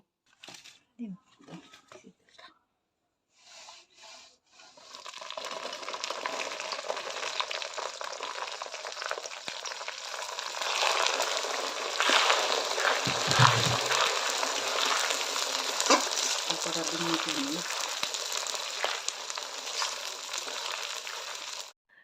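Garlic paste, sugar and chilies fry in hot oil for a lemon chili pickle, with a loud, steady, bright sizzle that surges midway after a few quiet knocks and rustles at the start.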